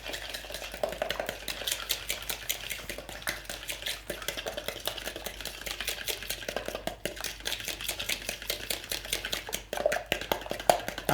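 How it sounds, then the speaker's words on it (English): A spoon beats sugar into Norwegian Christmas cookie dough in a bowl with fast, rhythmic scraping and tapping strokes that run steadily and close throughout. "And we're just beating it until"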